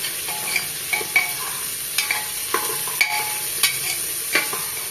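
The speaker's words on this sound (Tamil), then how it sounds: "நல்லா மிக்ஸ் பண்ணிக்கலாம்" Chopped onions are stirred in a frying pan while cooking for chicken biryani. Regular scraping clicks land about every half second over a soft sizzle, with no voices.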